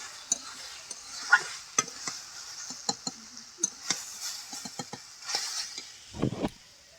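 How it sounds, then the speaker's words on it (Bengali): Water spinach (kalmi shak) stir-fried with fried mung dal in a pan: a close, soft sizzle under repeated sharp scrapes and taps of a spatula stirring the greens, with no one talking. "আরও একটু ভালো করে ভেজে নেব।"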